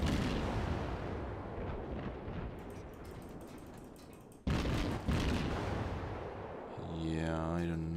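Heavy warship gunfire in World of Warships booms over a dense roar of battle, with a sharp loud blast midway followed by rumbling and a tonal in-game effect near the end.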